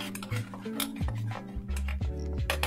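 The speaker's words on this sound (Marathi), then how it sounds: "त्याला आपण थोडंसं परतून घेऊया व्यवस्थित।" Overnight-soaked chickpeas are sautéed in a pan for dry chana masala, with a utensil clinking and scraping against the metal in irregular knocks close by.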